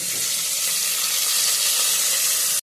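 Chopped tomatoes go into browned onions and green chillies in a hot pan, for a horse gram rasam style dish, giving a loud, steady, close sizzle that runs unbroken for a couple of seconds before cutting off.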